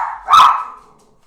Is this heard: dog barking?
yes